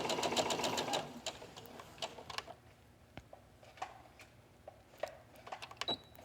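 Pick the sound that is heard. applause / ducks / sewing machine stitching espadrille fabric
sewing machine stitching espadrille fabric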